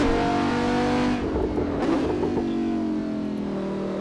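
Audi R8 V10 engine in the Assetto Corsa racing game revving steadily and close, its high whine shifting pitch midway as it holds throttle, with no talk over it.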